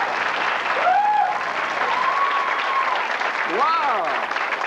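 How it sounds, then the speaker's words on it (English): Studio audience applause at a television talk show, a steady dense wash of clapping throughout, with music tones gliding over it. "You seem a little shy about all that applause."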